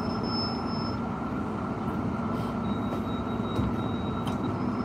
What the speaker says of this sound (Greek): Θα περιμένουμε το τρένο εδώ να περάσει.